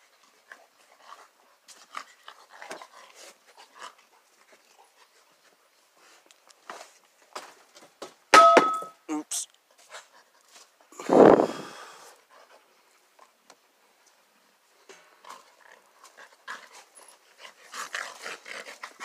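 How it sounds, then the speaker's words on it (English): Two large young dogs from the same litter pant and whimper in short bursts, with a louder close-range outburst near the middle between quieter rustling and footsteps. "They were the two biggest pups."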